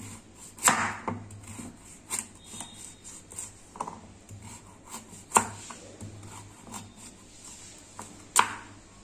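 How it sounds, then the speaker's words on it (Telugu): A knife chopping carrots into pieces on a board for juice, sparse scattered knocks and taps at irregular intervals, fairly quiet and close, with a low hum underneath. "ఈ క్యారెట్ అంతటిని ముక్కలు ముక్కలుగా కట్ చేసుకోవాలి"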